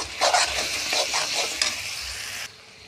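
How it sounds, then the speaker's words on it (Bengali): Jackfruit curry stirred in a pan with Kashmiri chili powder: a loud, steady sizzle and frying hiss with scraping strokes of the stirring spoon, running for a couple of seconds and then cutting off abruptly. "তারপর দিয়ে দেব কাশ্মীরি লঙ্কা গুঁড়ো, দিয়ে নাড়াচাড়া করতে থাকবো।"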